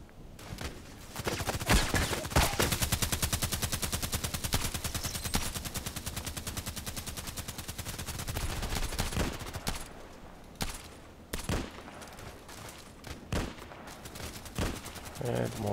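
Gunshots from a customized Glock 18 in a shooting video game: long rapid automatic bursts, loud and close, then scattered single shots toward the end.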